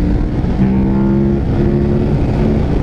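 Engine of a remapped KTM 1190 Adventure motorcycle under hard acceleration, a loud, close, throaty drone with rising harmonic tones as the revs climb and shift, wind rushing beneath.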